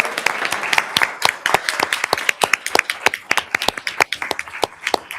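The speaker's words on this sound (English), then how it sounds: "Can we please give her a round of applause?" Applause breaks out for a student award at a school district board meeting, a brisk, moderately loud patter of many hands with sharp individual claps standing out, continuing for several seconds.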